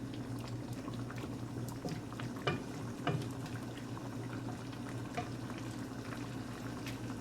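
Noodle soup with tofu bubbling in a pot is gently stirred, giving a steady boil and simmer with a few soft clinks and scrapes of the utensil against the pot, close and even throughout.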